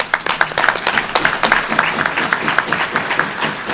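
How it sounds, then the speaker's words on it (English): Audience at a Rotary Club of Tucson meeting applauding, a thin scattering of individual claps with a steady uneven rhythm, moderately close and fairly quiet. "give an applause for her"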